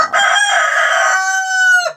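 A single loud, close rooster crow rings out, a long harmonic call that rises, holds and drops off sharply at the end.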